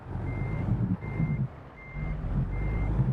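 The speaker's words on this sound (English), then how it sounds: "I've got to back out" Four regular high-pitched backup beeps ring out as a truck reverses in American Truck Simulator, repeating at a steady pace above a loud, rumbling diesel engine.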